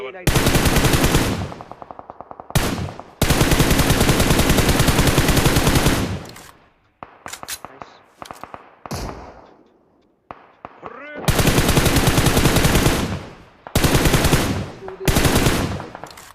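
Rapid automatic gunfire bursts from a battle royale video game, loud and close, with long sustained volleys broken by short pauses and scattered single shots.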